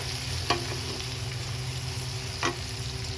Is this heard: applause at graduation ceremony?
no